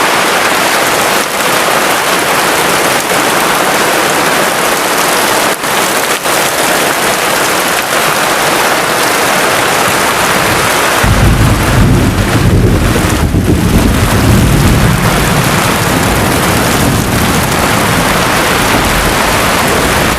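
Heavy rain pours steadily over a village, a dense continuous hiss, with thunder cracks and deep rumbling swelling in over the second half; loud and enveloping, with wind buffeting the microphone.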